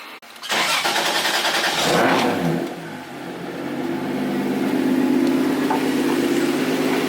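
A 2JZ engine swapped into a Nissan S14 drift car cranks and fires up, revs briefly, then settles into a steady, rumbling idle, loud and close.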